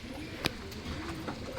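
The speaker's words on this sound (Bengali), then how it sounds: "খুব সুন্দর পায়রা" A pigeon coos softly a couple of times at close range, low and brief, over a quiet background.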